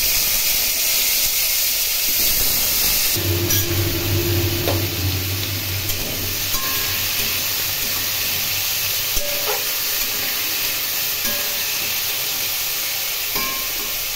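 Small cut potato pieces hitting hot oil with black cumin, a constant broad sizzle and hiss with faint clinks and a low hum underneath.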